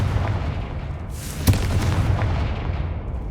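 A Confringo blasting spell explodes in Hogwarts Legacy, one sharp blast midway through over a steady rumbling background of game ambience.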